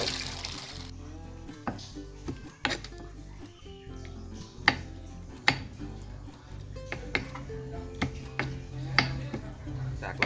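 Knife chopping garden vegetables on a board, a series of sharp irregular taps at a moderate pace, close and clear over faint background noise.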